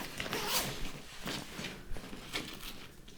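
An expansion zipper on an Osprey Daylite travel backpack is pulled open in several short, rasping bursts, close and fairly clear, with fabric rustling between the pulls.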